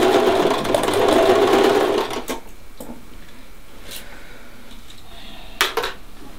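A sewing machine runs in a fast, steady stitching burst for about two seconds and then stops, leaving quiet room tone broken by a few faint clicks and a short clack near the end.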